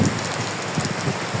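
Steady rain pours down during a nighttime bike rally ride, a dense, even hiss of drops striking surfaces that fills the whole moment with no voices.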